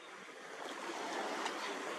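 Waves wash in at the water's edge as a faint, steady hiss of surf, soft and continuous with no voices.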